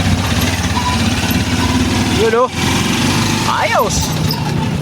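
A TMX 125 motorcycle runs steadily right after starting, its engine a loud continuous drone close up, with a short dip midway and a brief spoken word over it.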